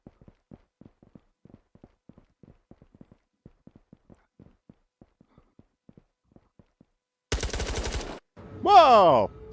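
Gunfire from an AKM rifle in a video game: a long run of faint footstep-like taps, then a loud, dense burst of automatic fire lasting under a second, followed by a sweeping tonal game sound effect.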